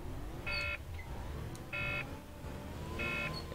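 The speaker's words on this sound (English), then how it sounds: "What's that buzzing for?" A warning buzzer in the OMSI 2 bus simulator, on a Yorkshire Counties route, sounds three times in an evenly spaced electronic pulse, each tone lasting about a third of a second over a steady low engine hum.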